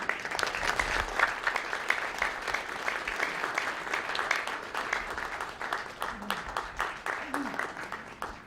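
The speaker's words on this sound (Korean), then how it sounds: "큰 박수 모시면" A large audience at a New Year prayer breakfast for a Christian council in Gyeonggi Province claps in sustained, dense applause that holds steady, then tapers slightly, with faint voices underneath.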